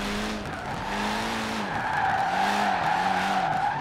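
A Honda Civic Si Turbo drifting in Forza Horizon 4, tires skidding and squealing in repeated wavering swells over a steady engine drone, loud and close.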